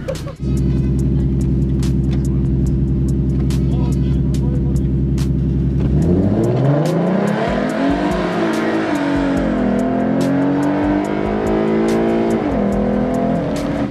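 A 3.7L Mustang on a cold night of street racing on summer tires idles steadily, then revs hard, the pitch climbing and wavering as it pulls away loud and close, with voices under the engine.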